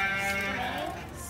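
A single drawn-out bleat from a goat, close and fairly loud, trailing off over about a second.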